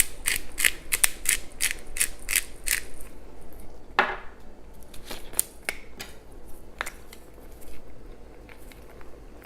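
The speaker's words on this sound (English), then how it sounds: "several grinds of fresh pepper" A pepper mill grinds fresh pepper for a tomato sauce, a fast run of sharp ratcheting clicks up close, then a pause and a few slower scattered grinds.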